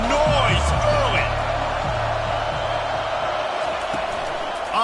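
A stadium crowd roars steadily through a football game, a broad sustained wall of cheering with scattered whoops under a broadcaster's voice.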